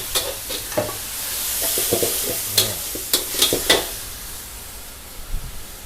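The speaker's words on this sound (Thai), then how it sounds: "ผัดชามันต้องอย่างนี้ครับมันต้องถึงเครื่องถึงกลิ่น" Spicy Thai pad cha with big chunks of catfish is stir-fried in a hot pan, a steady loud sizzle broken by scraping stirs and metallic clanks of the spatula, close up with no voices.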